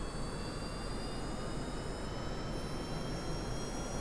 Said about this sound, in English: Z for full throttle.